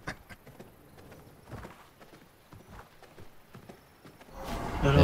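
Horse hooves clip-clopping in the video game V Rising, a light irregular patter of steps at moderate distance, ending in a sudden louder burst of noise.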